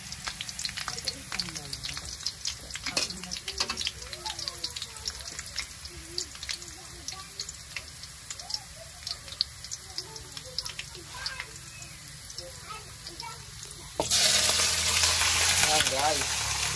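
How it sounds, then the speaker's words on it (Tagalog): Garlic sizzles and crackles steadily in a hot pan, close and fairly quiet with irregular pops, and then a louder burst of hissing joins near the end. Voices are heard faintly over parts of it. "Lutuin mo natin yung bawang."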